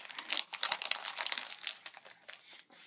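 A miniature Japanese food kit packet is cut and torn open, with bursts of close crinkling and crackling plastic film across the whole stretch and a brief sharper rustle at the end; no one speaks.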